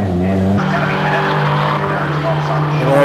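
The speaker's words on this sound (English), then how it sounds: "So Jade Edwards in the MGZR being assisted by older sister Chloe, about to join the fray." MG ZR race car pulling away from the pit lane at Donington during a Dunlop Sport Maxx Cup race, a loud continuous engine drone with shifting pitch and tyre noise, under steady commentary.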